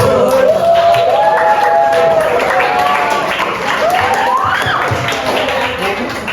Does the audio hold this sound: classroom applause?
yes